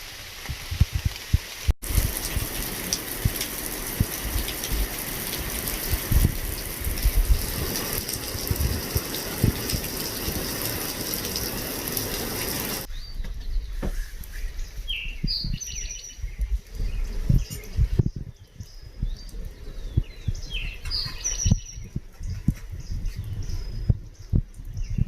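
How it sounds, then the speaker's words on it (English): Heavy rain falling on a hiking trail near a shelter, a loud dense steady hiss for roughly half the time that then thins to a lighter patter with bird chirps coming through. "This is a lot of rain."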